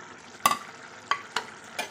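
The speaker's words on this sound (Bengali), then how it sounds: "এবার এই একই সঙ্গে ভাজা মুড়োগুলোকেও দিয়ে দিচ্ছি।" Fried fish heads go into a pot of simmering rice for muro ghonta, giving a few short sizzling bursts with stirring scrapes between them over a quiet cooking hiss.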